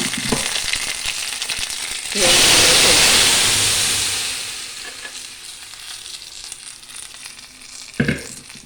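Curry leaves and mustard seeds in hot oil with boiled potatoes, for a potato curry, sizzling in a pan. A loud, bright hiss bursts in and then settles into steady frying crackle, with a sharp clatter near the end.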